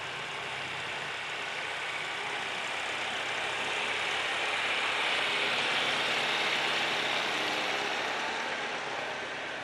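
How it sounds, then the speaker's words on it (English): A 1966 John Deere 2510 tractor rumbles past in an antique machinery parade, a steady, fairly distant engine drone with broad background noise that swells slightly in the middle. "This is a 1966 John Deere 2510, owned and being driven by Larry Brooks from Orleans."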